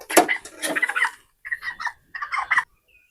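A small 32-day-old female broiler chicken of about 1.7 kilograms squawks in short, loud, close bursts separated by brief pauses.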